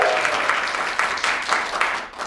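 A studio audience claps in a short, dense burst of applause, steady and fairly loud, fading slightly at the end.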